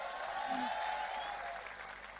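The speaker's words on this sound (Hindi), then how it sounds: "दोनों हाथ ऊपर उठाकर तालियां बजाकर बताओ।" An audience at a Hindi comedy poetry gathering, a hasya kavi sammelan, claps with both hands raised, heard as a faint, distant, continuous patter of applause for about two seconds.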